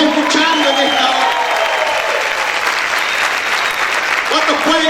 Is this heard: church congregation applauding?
yes